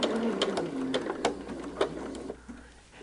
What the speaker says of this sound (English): And we're going to stitch just until the intersection.